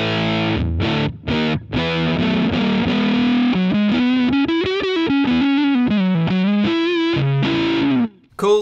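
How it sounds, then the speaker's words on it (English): Electric guitar through a Spruce Etch Series germanium Fuzz Face pedal, loud and saturated, opening with a few choppy stabbed chords before a sustained run of bending, wavering lead notes that rings out alone to the end. "Cool, sounds like a great fuzz face to me."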